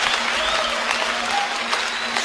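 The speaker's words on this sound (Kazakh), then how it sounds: "Ағайын қолды соғып шулап отыр" A seated audience at a Kazakh aitys poetry contest claps and cheers, producing a dense, continuous roar of applause that stays loud and even throughout, with a faint sustained tone underneath.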